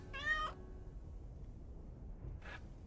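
A cat meows in The Killing Stone, a fantasy video game, giving one clear, fairly close meow followed about two seconds later by a shorter, softer second meow over a quiet background.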